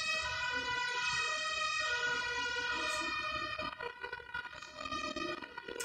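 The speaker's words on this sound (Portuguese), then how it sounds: "Ih, ambulância. Bombeiro." A wailing ambulance or fire engine siren sweeps up and down loudly, passing close by, with road traffic noise underneath and the tone dropping away toward the end.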